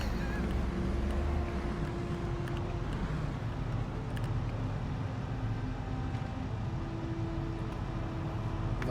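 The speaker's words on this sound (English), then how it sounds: "I love the sound of the engines" Vehicle engines idle in the survival game Project Zomboid, a steady low drone and rumble that holds evenly at moderate loudness throughout, with no talking over it.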